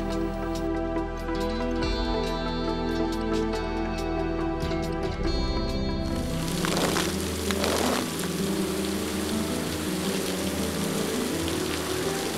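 Steady rain pours on a night film set, a dense continuous hiss that grows rougher and heavier partway through over a constant low hum.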